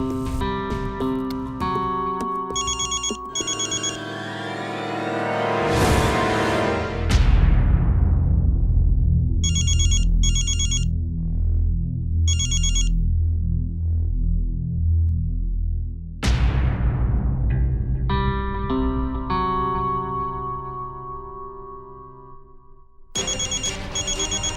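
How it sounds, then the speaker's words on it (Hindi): A phone ringtone rings in a Hindi TV drama, with repeated bright bursts of ringing over a loud, steady music bed that swells and fades around it. "तारा को फोन करके बता देती हूँ"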